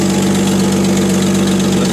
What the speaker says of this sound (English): She's got a loud exhaust when she's cold.